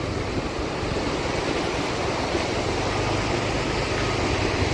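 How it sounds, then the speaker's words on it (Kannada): Water rushing from the opened gates of Manchanabele Dam near Bangalore, a loud continuous broadband roar that stays steady and unbroken, with no voices over it. "ನೀರು ಭಯಂಕರ ಜೋರಾಗೆ ಬರ್ತಾ ಇದೆ"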